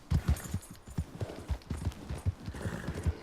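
Horse hooves clip-clopping at a steady walking rhythm in Red Dead Redemption 2, close and distinct, with even repeated thuds and no other sound over them.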